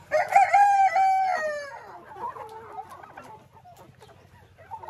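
Chickens crowing and clucking in a poultry yard, with a loud, close rooster crow followed by softer, warbling clucks fading into quieter background calls.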